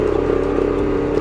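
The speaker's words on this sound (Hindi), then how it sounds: "बहुत अच्छी बाइक है जी यामा YBR 125G" A Yamaha YBR 125G motorcycle labouring up a steep hill in second gear, its steady mid-pitched engine drone loud and close with a faint rhythmic clatter throughout.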